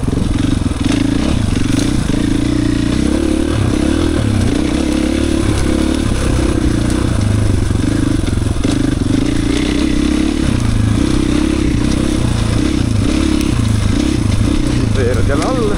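An enduro motorcycle on enduro tyres rides a muddy, root-strewn off-road trail, its engine droning loud and close throughout with pulsing throttle changes, rattles and scrapes, while a rider talks over the noise.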